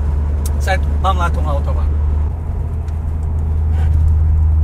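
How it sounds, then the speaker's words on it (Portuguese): An Opel Vectra 2.0 turbo 4x4 engine drones steadily from inside the cabin, a low rumble that shifts and swells partway through as the car picks up speed, while someone talks over it. "vamos ter que agora dar um gás nisto, é para ver se isto realmente Sim. levanta paralelo"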